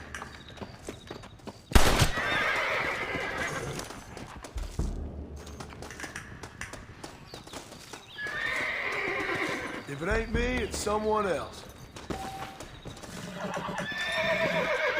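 Horses whinny and hooves clop amid gunfire and shouted speech in the video game Red Dead Redemption, with a sharp loud bang near the start and a rising neigh in the middle.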